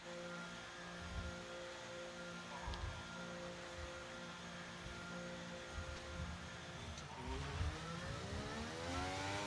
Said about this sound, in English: I can hear a car somewhere.